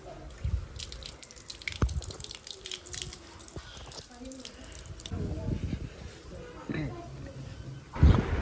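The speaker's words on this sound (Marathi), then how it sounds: "असं पायावर पाणी टाकायचं" Water splashes and drips onto feet at the entrance of a Swami Samarth temple, with an intermittent trickle and patter. Faint voices sit in the background and a louder thump comes at the end.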